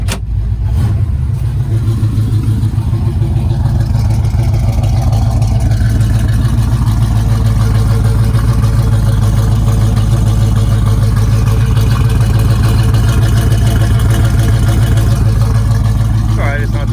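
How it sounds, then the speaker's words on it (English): A 1981 Chevrolet Camaro Z28 idles with a deep, steady exhaust burble that stays loud and close, continuous from start to finish. "let you hear the exhaust"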